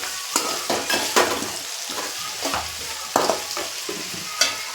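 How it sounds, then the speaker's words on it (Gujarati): Sugar and spices being stirred into spicy Maggi rice in a pan, with repeated scraping strokes and a soft sizzle beneath, close and moderately loud. "ખાંડ લઈ અને એને મિક્સ કરી દેવું કંઈક આ રીતનું"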